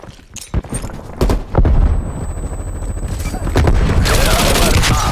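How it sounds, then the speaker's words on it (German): Grenade blast in the shooter game Call of Duty Black Ops Cold War, a loud booming burst amid dense gunfire and battle noise, with further heavy impacts and rumble building toward the end. "Granate ist raus."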